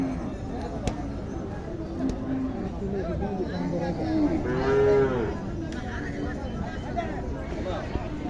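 Buffaloes at the Panchbibi livestock market low once in a long, drawn-out moo midway through, amid steady crowd babble and market noise.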